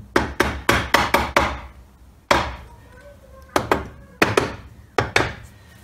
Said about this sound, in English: I will just get a plastic mallet and just give it a little tap here